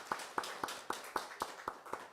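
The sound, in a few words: church congregation clapping for Sunday school children and parents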